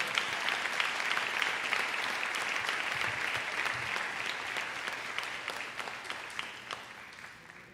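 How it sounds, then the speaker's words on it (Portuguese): A church congregation in Jardim Catarina applauds the Lord in a steady, dense wash of clapping that fills the room, close and sustained, with no voices over it. "Então aplauda o Senhor"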